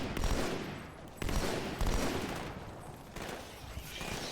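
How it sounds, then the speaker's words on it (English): Gunfire from a laser-accurate gun in the video game Halo 2 rattles in rapid continuous bursts with several restarts, fairly faint in the mix. "There's no bloom in this game, so this gun remains laser accurate no matter how long you shoot it."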